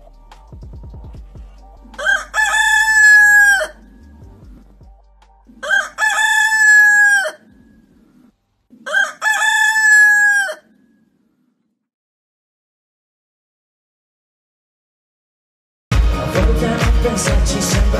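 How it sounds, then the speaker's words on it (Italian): A rooster crows three times, loud and close, each long call separated by a few seconds of quiet, before music suddenly starts near the end. "per ben tre volte sentì cantare il gallo"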